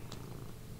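A cat purrs in the point-and-click game Deponia, a short, low, steady rumble heard close and alone under faint background noise.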